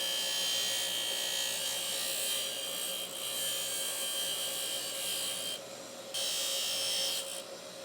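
Steady, close rasping of a file smoothing graphite golf club ferrules down flush with the hosel, a continuous scraping texture with slight dips in intensity and no talk.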